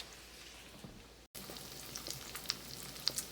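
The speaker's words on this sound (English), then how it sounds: "That sizzle you hear is not from this pan, it's from the pan next to it because we're fixing dinner right now." Food sizzles in a hot pan at a home stove during dinner preparation, a faint steady crackle with occasional sharper pops, briefly cut off by a short gap before resuming.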